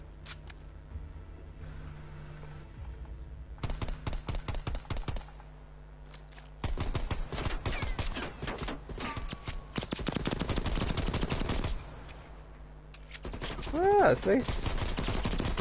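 Gunfire in Call of Duty Cold War played on keyboard and mouse: loud automatic bursts and rapid shot volleys recur throughout, with a brief spoken remark over the shooting.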